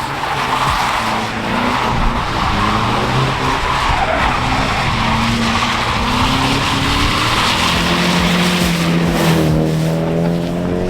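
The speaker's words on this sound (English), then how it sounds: "Oh, I love driving stock cars." A stock car drifts with screeching tire squeal and a roaring engine, loud and continuous, the pitch of the engine sweeping up and down as the car slides.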